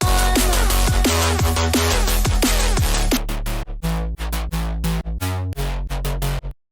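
Deep, punchy electronic bass riff with a dance groove, first with sliding pitch drops, then choppy repeated stabs, loud and upfront with no voices.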